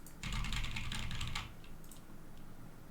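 Quick burst of typing on a computer keyboard, rapid soft clicks for about a second, then a few scattered keystrokes, close and quiet with no talk.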